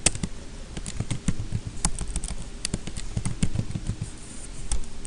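Computer keys clatter in quick, uneven bursts as a title is typed, close and crisp, with short pauses between clusters of taps and no talking.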